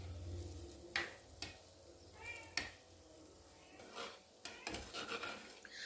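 Fish curry masala spiced with Kashmiri chili is stirred and sautéed in a pan, with faint scattered clinks and scrapes of a spoon against metal and a low, quiet sizzle.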